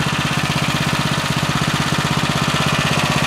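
Small engine of a sand spreading machine running at a steady idle, a loud close rhythmic chugging throb that holds even throughout, no voices.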